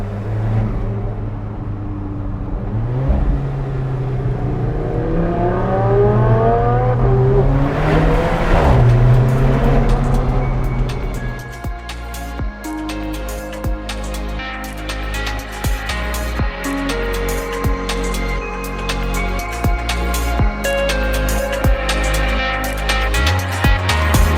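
An Alfa Romeo 4C accelerates hard through Monaco streets, its engine revving up through the gears loud and close, then shifting to rapid changing revs and an echoing rasp as the drive goes on, with no talking.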